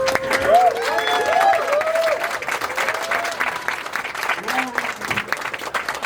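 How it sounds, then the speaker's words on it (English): Crowd applause and cheering fill the hall at the close of an Obsidian developer panel at a Fallout fan celebration, loud and sustained, with voices calling out over the clapping. "Give yourselves a round of applause"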